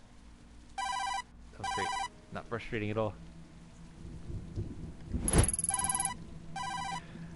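A phone rings repeatedly from inside a filthy paper bag in the video game Tokyo Dark, in short regular electronic bursts, with a brief spoken line and game ambience between rings.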